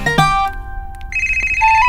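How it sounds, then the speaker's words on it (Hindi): A phone ringtone plays in a domestic setting, a short bright electronic tune with sustained tones, loud and close with no talk over it. "लगता है नेहा को फोन आया"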